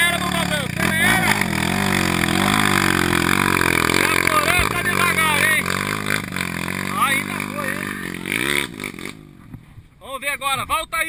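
A hot-wired off-road trail vehicle engine revving hard on a muddy hill climb, a loud, close, sustained rising and falling roar that cuts out near the end, with someone shouting encouragement over it.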